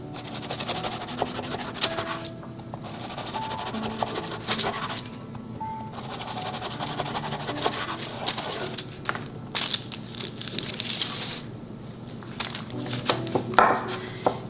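A knife cuts through slightly soft perilla-seed and nut brittle, giving repeated crisp chops and crunches in an uneven rhythm, close and fairly quiet, with short scraping strokes between cuts.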